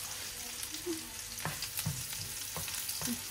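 Garlic fries in butter in a pan with a steady, close sizzle, broken by a few soft stirring scrapes.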